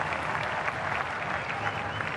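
A cricket crowd applauds a fielding play with steady clapping that holds an even level from start to finish.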